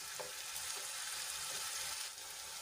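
Chopped onions sauté in hot oil in a pan until golden brown, giving a steady, even sizzle that holds close and constant throughout, with no voices over it.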